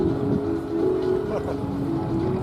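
MiG-29 Fulcrum B jet with Klimov engines passing overhead at EAA AirVenture Oshkosh 2022, a steady loud roar with a droning low hum that holds throughout, with no talk over it.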